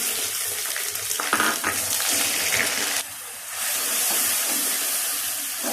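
Spice paste tipped into browned onions sizzling in a pan, a broad steamy hiss that swells when the paste hits the oil, with a few stirring scrapes; no voices heard.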